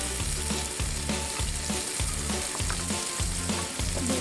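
Spice paste of ground turmeric, garam masala, cumin and red chili frying in a pan for a duck curry, a loud steady sizzle with stirring scrapes, continuous and close, with no voices.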